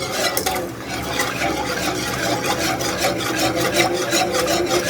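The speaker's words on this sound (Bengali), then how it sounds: "আর একটা হ্যান্ড উইচ দিয়ে নাড়তে থাকবো, যাতে দলা পেকে না যায়" A hand whisk stirs milk for custard ice cream, a steady scraping, rubbing swirl against the pot repeated in quick continuous strokes, close and fairly loud with no talk.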